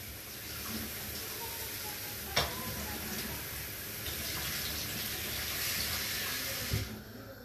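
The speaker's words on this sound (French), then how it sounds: "Donc ça, je vais laver le gombo." Okra washed under a running kitchen tap, a steady, moderately quiet stream of water with a couple of small knocks as the pods are handled.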